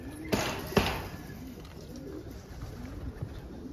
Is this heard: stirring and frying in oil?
no